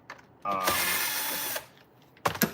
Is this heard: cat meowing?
no